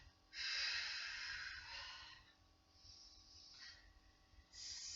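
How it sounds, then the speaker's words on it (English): A long, audible exhale during a Pilates exercise, breathy and close, followed by softer in-and-out breaths and another outward breath starting at the end. "Try and breathe out as you go overhead."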